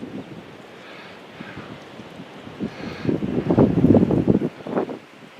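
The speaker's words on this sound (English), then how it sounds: "The wind is still blowing. It's still blowing like crazy." Strong storm wind roars and gusts in buffeting waves against the microphone, building to a loud peak before easing slightly, with no voices.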